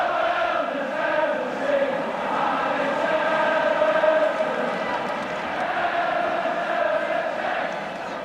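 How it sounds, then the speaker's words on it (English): A big stadium crowd at a 1984/85 Liverpool versus Everton league match roars and chants in a steady, loud wall of sound that swells slightly and holds for several seconds. "And the Evertonians in the crowd were thrilled to bits."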